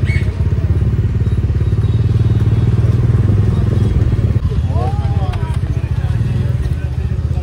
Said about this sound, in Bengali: ফুল কনসেন্ট্রেশন নিয়ে বাইক চালাচ্ছে